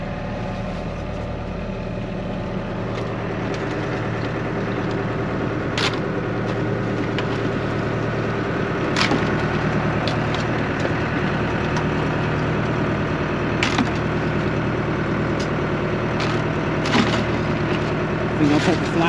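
A boat motor drones steadily for the whole stretch, low and constant, with occasional sharp knocks and clicks over the hum.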